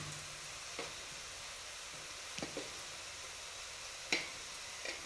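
Coriander powder sizzles in a pan for chicken curry as a faint, steady hiss, with a few soft taps and scrapes.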